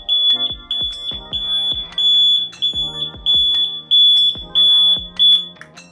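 A DH48J-8 counter's alarm buzzer sounds on reaching zero, giving a loud, rapid train of repeated electronic beeps with a steady high tone running throughout, alone with no voices.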